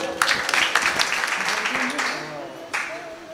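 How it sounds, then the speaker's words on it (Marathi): Kirtan audience claps together in a hall, scattered then steady claps at moderate distance, with someone talking over them. "टाळी वाजवा ना"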